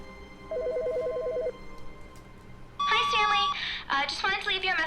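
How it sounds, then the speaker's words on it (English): A telephone rings in The Stanley Parable video game as a short burst of rapid electronic trills, followed by a longer, louder ringing tone with a voice talking over it. "Is that phone ringing?"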